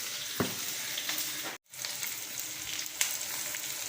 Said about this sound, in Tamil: இதோட இது வதங்கட்டும்.